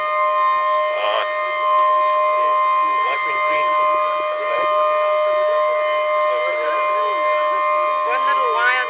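A demolition warning siren wails at a building demolition on Bree Street in Cape Town, a steady loud tone with rising and falling sweeps running the whole time, while people talk nearby over it.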